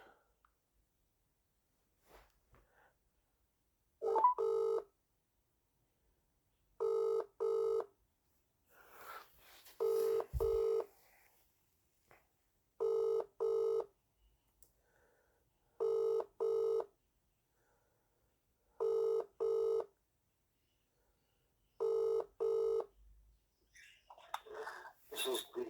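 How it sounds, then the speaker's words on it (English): An outgoing telephone call rings out, with repeated double-burst ringback tones about every three seconds, eight pairs in all, clear against near silence with a few faint clicks and noises between them. "I'm ringing up Graeme Kenna."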